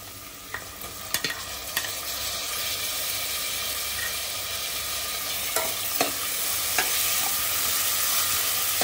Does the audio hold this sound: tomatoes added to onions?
yes